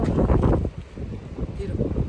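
Strong wind gusts across Rocky Top on the Appalachian Trail, buffeting the microphone with a loud, low, uneven roar that swells and eases over a couple of seconds.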